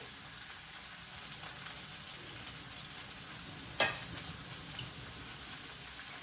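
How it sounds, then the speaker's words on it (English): Beef slices frying in a pan give a steady, close sizzling hiss throughout, with one sharp click near the middle. "I'm going to drop in the beef slices. So I will let them cook."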